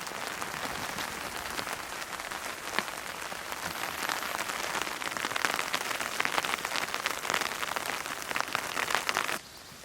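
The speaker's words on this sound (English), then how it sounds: "It's raining as well." Steady, dense rain patters on a surface nearby at an autumn wild camp in Derbyshire, a continuous hiss of drops that drops away abruptly near the end.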